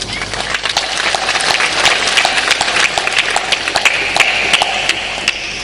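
Dense, continuous applause from a seated audience at a Hindi motivational talk, sustained and fairly loud throughout with individual sharp claps poking out of the steady wash.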